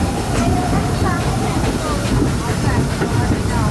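The Disneyland Railroad train rumbles along its rails with a continuous rolling clatter and squeal, while a recorded announcer's voice talks over it.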